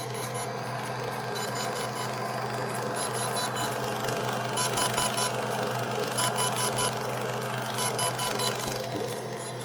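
Faint, high electronic beeps from a DJI Inspire 1 drone updating its firmware repeat at a regular pace over a low steady hum, with no talking.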